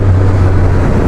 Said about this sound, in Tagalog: malakas ang hatak maganda yung tunog ng pipe